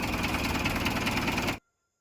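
A Mahindra Bhumiputra 475 DI self-start tractor engine idles with a steady, loud, rumbling chug, then cuts off abruptly into silence.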